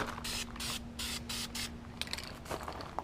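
Primer is sprayed from an aerosol can onto a car battery tray in short hissing bursts, about five in quick succession, then a few sharper clicks and taps, over a low steady hum.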